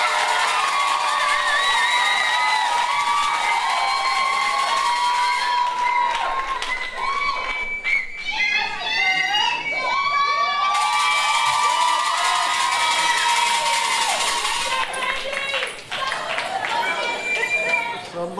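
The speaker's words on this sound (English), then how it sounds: "give them a round of applause." A large crowd at a college commencement ceremony cheers and shouts continuously, excited voices overlapping in a steady roar that carries on without a break.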